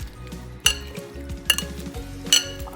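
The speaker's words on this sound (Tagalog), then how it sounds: "Mix muna natin." A utensil stirs tofu, pork, green onions, pepper and chili in a hot pan, giving a soft sizzle under three sharp metallic clinks against the pan, close up and without talk.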